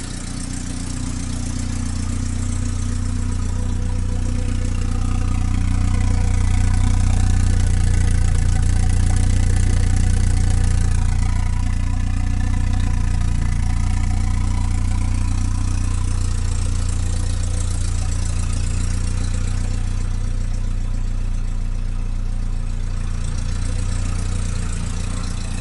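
A VW Golf 1 Sport Line engine idles steadily up close with a deep, even drone and a slight hissing on top, holding a constant level throughout with no talk.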